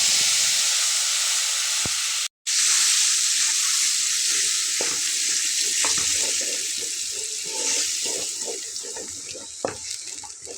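Ground spice paste frying in a pan for a kolmi (water spinach) dish, a loud steady sizzle running the whole time with scattered crackles and a brief sharp drop near the start; no talking.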